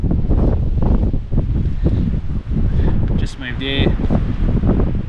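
Strong wind buffets a camper trailer at a beachside town campsite, roaring steadily and loudly against the microphone in continuous gusts, with a brief faint voice-like sound partway through.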